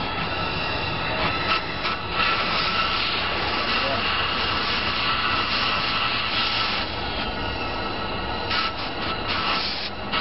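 An EAC pulse jet engine runs continuously with a loud, harsh, roaring rumble that stays steady throughout, with slight surges in intensity.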